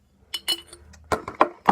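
A spoon clinks and taps against a glass container while scooping fake snow for a Christmas craft, giving a series of close, light, irregular knocks and scrapes with no talking.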